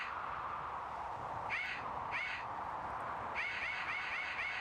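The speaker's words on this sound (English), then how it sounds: "They make such cute bird noises." Soft bird calls in a video game, three short warbling chirps spaced apart over a steady hissing ambient bed, faint and with no talking.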